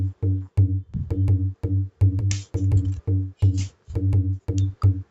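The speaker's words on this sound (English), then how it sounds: "we have another instrument which is basically something like a tabla type" A tabla-type drum sample plays in beat-making software: a rhythmic pattern of resonant, booming low strokes and sharp ringing slaps, about two hits per second, clean and close with no other sounds.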